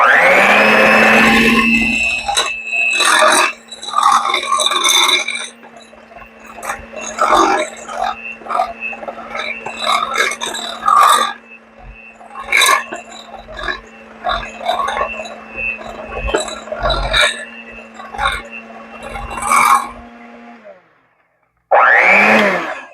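An electric mixer blending cookie dough for a heart-shaped giant cookie, a loud, steady motor whine with a gritty, churning texture running close for about twenty seconds, then stopping. Speech overlaps it at times.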